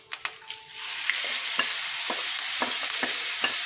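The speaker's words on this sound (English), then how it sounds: "directly you can put your beef into that" Beef seasoned with shallot, salt and turmeric hits a hot pan for a coconut roast, breaking into a steady loud sizzle with a few scraping stirs and clinks of the utensil throughout.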